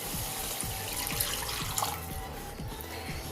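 Water is poured steadily into a pan of Bengali tel koi fish curry, a close, continuous splashing rush that runs for a few seconds without talk.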